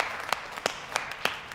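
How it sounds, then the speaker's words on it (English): The Joker's slow, deliberate hand clap in The Dark Knight: four sharp, evenly spaced claps ringing alone in a quiet scene. "the well-known clap that he did in this scene was all off-script"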